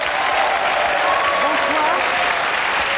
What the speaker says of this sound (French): Je voudrais qu'on applaudisse Annick.